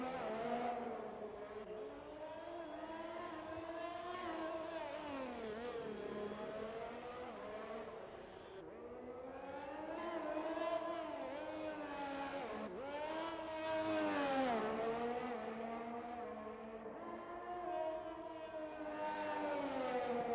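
A Formula 1 car engine in the F1 2021 video game at the Singapore circuit wails continuously. It rises and falls through gear changes and revs, screaming high on the straights and dipping under braking, with no talk.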